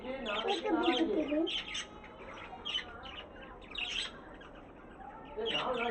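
Budgies in a terrace aviary give bursts of busy chirping and twittering, loudest at the start and end, with quieter calls between and a low background hum throughout.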